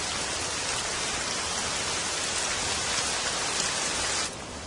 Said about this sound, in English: By morning, rain is falling steadily.